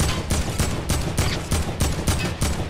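Fortnite gunfire bursts in a rapid, evenly spaced rhythm of about nine loud shots in under three seconds, sharp and close with no talk over them.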